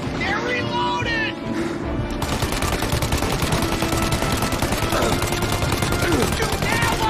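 Rapid automatic gunfire in a Mafia Definitive Edition shootout, a dense, continuous stream of loud shots with a few clearer single reports early on, and shouting voices mixed in.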